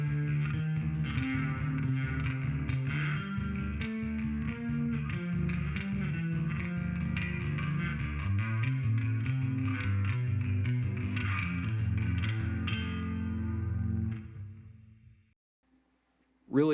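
A bass guitar through a JST Rex Brown Signature Bassforge amp sim plays a sustained melodic line through a lush reverb, notes blooming and lingering before fading to near silence near the end.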